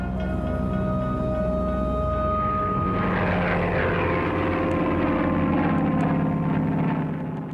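Japanese carrier aircraft in Battlefield WW2 at Pearl Harbor: a steady, loud propeller-engine drone that swells in pitch and roughness as the planes pass close, continuing without pause.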